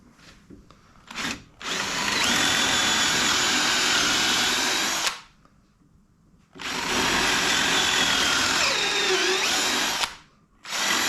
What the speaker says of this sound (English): okay, so we'll start some drilling.